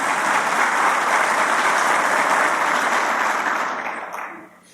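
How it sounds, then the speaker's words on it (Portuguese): A large audience at a public ceremony in Belo Horizonte breaks into sustained, dense applause that holds steady and loud before tapering off near the end. "queria solicitar uma salva de palmas também para essa equipe brava, guerreira"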